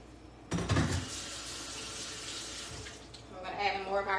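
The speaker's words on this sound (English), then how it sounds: "Now I'm going to add more water." Water pours from a tap into a pot of beef chili, a broad rushing splash that starts abruptly and runs steadily for a few seconds before the sound shifts near the end.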